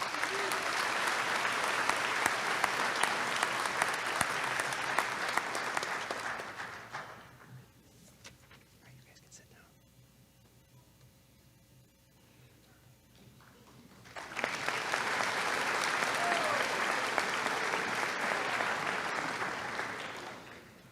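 Graduates and families applaud at a high school commencement ceremony, a dense broad roar of clapping that fades to a quieter lull mid-way before a second loud round swells back up and holds to the end.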